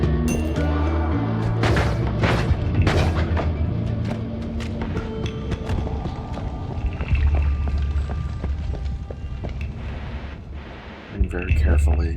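Bombs exploding in a video game, heard as deep rumbling booms and a dense roaring blast wash that swells and fades, with a voice talking over it.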